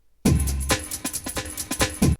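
A processed breakbeat sample from an 80s hip-hop track plays alone, a punchy run of kick, snare and bright hi-hat hits in a quick funky rhythm for about two seconds.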